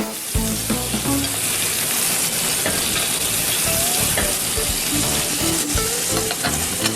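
Fish fillets for tacos frying in a pan, giving a dense, continuous loud sizzle and crackle up close with occasional spatters and clinks, no talking.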